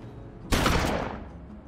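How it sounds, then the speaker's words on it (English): A rapid burst of gunfire from the video game Project Winter erupts suddenly and loud, a dense fusillade of shots that then fades off over about a second, with no talk over it. "Yeah, I heard gunshots outside."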